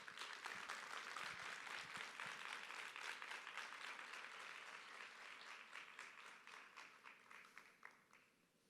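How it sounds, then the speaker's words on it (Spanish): An audience applauds to welcome a guest speaker at a talk, a dense, sustained round of clapping that fills the room, then thins toward the end into scattered, separate claps. "Vamos a recibir con un fuerte aplauso a nuestro invitado, el licenciado Ismael Lechuga"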